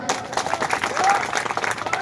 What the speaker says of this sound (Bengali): কমিটির জন্য সবাই জোরে একটি হাততালি হয়ে যাক।